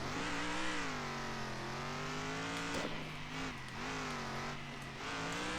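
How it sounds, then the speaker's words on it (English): A racing truck in the Circuit Superstars video game braking hard, its engine drone steady and loud and dipping briefly, with no voices. "This is hard braking."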